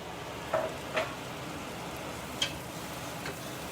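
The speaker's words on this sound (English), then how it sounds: "And give it a stir." Rice stirred in a pan while cooking risotto with Italian sausage, a quiet steady sizzle with a few soft scraping ticks of the spoon spaced irregularly.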